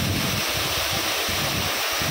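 Waterfall with water plunging from high above, a dense, constant roaring rush filling the scene, loud and close with no letup and no clear voices over it.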